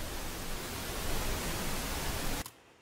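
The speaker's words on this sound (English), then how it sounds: "Set your pink noise to be about as loud as you want your track to be" Pink noise test signal used as a mixing reference, a steady, even hiss spread across the whole range that plays alone for over two seconds and then cuts off abruptly.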